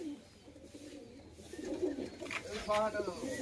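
Pigeons kept for sale at a loft, a heavy-bodied pair among them, give soft, low repeated coos that build toward the end, with background chatter and market noise around them.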